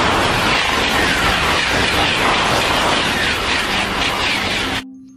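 Toy high-speed train producing a dense, loud rushing rumble that runs steadily for nearly five seconds, then ends suddenly.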